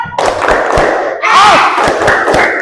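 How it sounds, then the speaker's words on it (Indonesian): Children in a classroom shout a rhythmic clapping chant in unison. Sharp, close claps punch through their loud chorus of voices, with a brief pause before the chant surges again. "Bu Guru mau mendengar tepuk siapnya"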